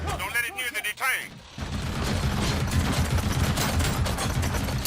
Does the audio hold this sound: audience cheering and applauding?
no